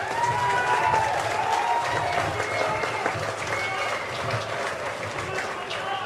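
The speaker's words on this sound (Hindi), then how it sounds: "अरे ताली बजानी है," A campaign rally crowd in Ludhiana claps steadily and loudly for several seconds, a dense wash of hands with a speaker's amplified voice running over it.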